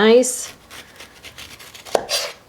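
A chef's knife slices the white pith from a grapefruit with soft scraping cuts and one sharp tap on the board; a brief voice sounds at the start.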